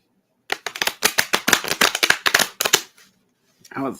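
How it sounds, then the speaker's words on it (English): A deck of cards is riffled in a quick run of crisp snaps lasting about two seconds, followed by a brief pause and a short voice. "That was a terrible shuffle."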